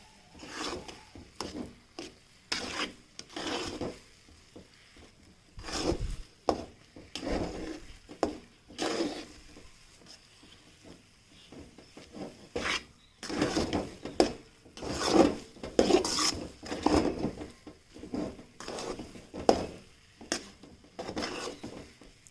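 A semolina dough mixture for gulab jamun is stirred in a pan, with repeated scraping and knocking strokes of the spoon against the pan in an irregular rhythm, close and moderately loud, without talk.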